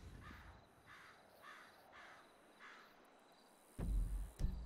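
Crows in the video game GTA Online give five evenly spaced, hoarse caws at a moderate distance over a quiet ambient bed, followed by a sudden burst of low rumbling noise.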